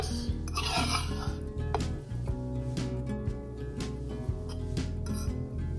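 Shredded meat for tacos is mixed in a pan, with scraping and clinking of a utensil against metal over a steady low hum, plus a few brief louder knocks, close by and without talk.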